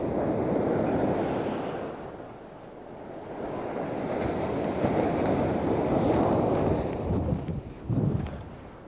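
Ocean surf breaking on a beach while fishing for salmon, a continuous loud rushing wash that swells and recedes, with wind noise on the microphone.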